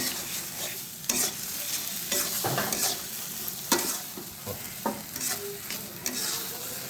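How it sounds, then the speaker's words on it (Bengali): Taro leaves and dried fish being stirred and fried in a pan, with a steady sizzle broken by repeated scraping strokes of a spoon against the pan. Close and fairly quiet, and nobody talks. "এখন আমি সেদল এবং কচু শাক একসঙ্গে দিয়ে রান্না করতেছি।"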